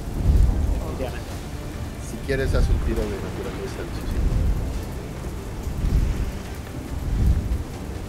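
Thunderstorm rain from World of Warcraft sounds as a steady downpour with low rolling thunder swelling repeatedly, heard beneath people talking and laughing.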